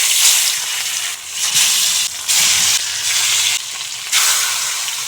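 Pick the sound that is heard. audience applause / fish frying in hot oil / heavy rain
fish frying in hot oil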